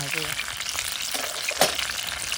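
Mackerel wrapped in banana leaf sizzles on a hot griddle, a steady crackling hiss with a few brief pops and stirs, close and moderately loud throughout.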